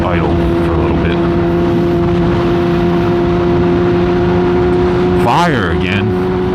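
A vehicle engine idling, a loud steady low hum with strong even tones throughout, close up, with a brief rising whine near the end.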